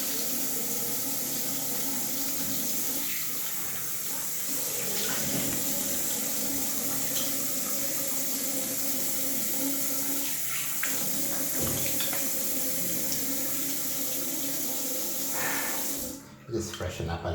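Water runs steadily from a tap into a sink while someone washes their face, a continuous close rushing stream that cuts off abruptly near the end.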